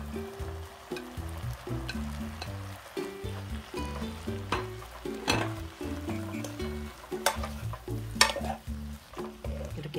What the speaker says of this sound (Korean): 이렇게 까르고추하고 버섯하고 같이 볶아놓으면